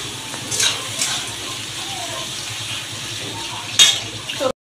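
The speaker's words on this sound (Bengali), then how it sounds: "একটু সবজিটা ভাজা হোক।" Vegetables sizzle and fry in a pan for chow mein, a steady hiss with occasional clinks of a utensil against the pan, close by.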